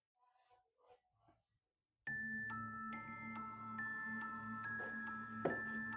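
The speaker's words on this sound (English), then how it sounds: "Can you ring the bell again," A bell at the White Hill Mansion, a former speakeasy, rings out sharply after brief quiet, its clear tone sustaining and decaying over several seconds, with a couple of softer repeated strikes.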